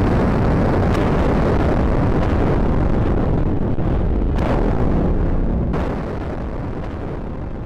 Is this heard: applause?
no